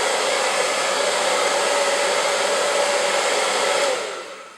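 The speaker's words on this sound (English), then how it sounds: "We'll use a hair dryer, a medium heat, and we'll just turn it on, warm the barrel up a little bit" A hair dryer running on medium heat blows a steady, loud broadband whoosh to warm a gun barrel for bluing, holding constant for about four seconds before cutting off and fading.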